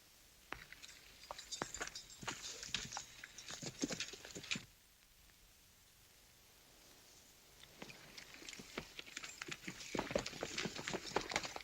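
A horse walks with a steady clip-clop of hooves in a Western setting. The hoofbeats are close and rhythmic, pause briefly in the middle, then resume.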